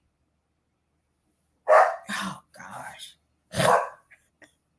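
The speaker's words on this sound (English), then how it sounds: "Rio started barking." A dog barks at close range indoors, giving four sharp bursts in quick succession, and a person briefly speaks among them.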